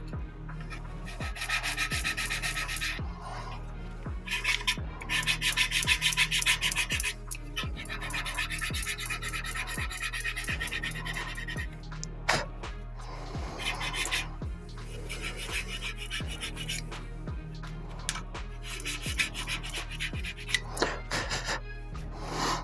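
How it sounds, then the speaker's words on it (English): Rubbing and scratching of sanding on glued wooden frame and keel parts of a USS Providence model ship, a steady rasp running throughout under a regular low thumping beat. "What I like to do after gluing some parts, sand it down a little bit."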